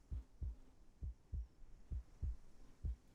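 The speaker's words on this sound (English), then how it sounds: "A heartbeat. Right outside the door." Heartbeat sound effect in the game Reverse: 1999, a series of muffled low thumps in paired beats repeating at a steady slow pulse, with no speech.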